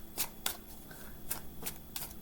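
Tarot cards riffled and shuffled by hand in several quick crisp bursts, close and fairly quiet, with no talking.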